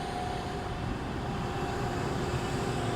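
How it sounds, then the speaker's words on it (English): A work truck passing in the background outdoors, a steady low rumbling drone with a faint tonal hum that stays distant and constant throughout, with no talking. "There is a worker truck driving by."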